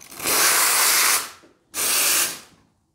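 A Profitec Pro 600 espresso machine's steam wand, fitted with a two-hole tip, is purged in two loud, close bursts of hissing steam, the first lasting about a second, then a short pause and a second shorter blast.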